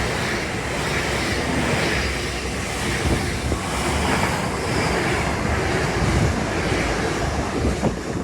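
A train passes near the seaside at Teignmouth as a loud, continuous broadband rumble and rush, mixed with wind buffeting and surf-like roar, with no voices.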